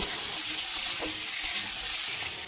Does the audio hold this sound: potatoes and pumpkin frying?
yes